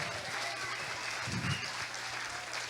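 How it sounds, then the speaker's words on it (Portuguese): A church congregation applauds during a Sunday evening worship service, steady moderate clapping from many hands that fills the room without a break. "Aplauda ao Senhor."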